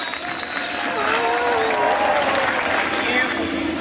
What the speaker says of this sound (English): Let's give him a big round of applause as he's coming over.